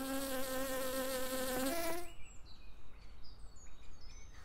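A close, loud insect buzz drones with a steady pitch for about two seconds, then stops, leaving faint chirps in the quiet.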